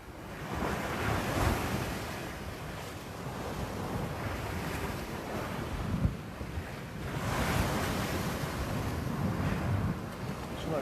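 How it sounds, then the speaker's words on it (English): Ocean surf rolls onto a beach where people are sea fishing. Waves wash in and break in slow swells over constant wind buffeting the microphone, with no talk. "Could have been a bit more surf."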